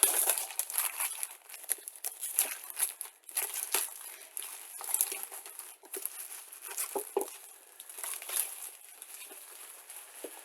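An Amazon gray plastic bag envelope being handled, giving soft, irregular crinkling and rustling bursts that come and go close by, quiet and alone.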